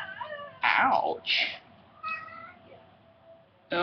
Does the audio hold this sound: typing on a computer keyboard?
no